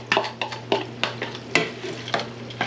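Vegetables frying in a pan for a breakfast casserole, with a soft sizzle under repeated scraping stirs of a utensil against the pan, close and fairly quiet, no voices.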